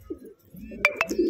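Pigeons of the Madrasi breed, taper-faced with deep eyes, give soft low coos with a couple of sharper clinking calls in quick succession, close by in a quiet setting.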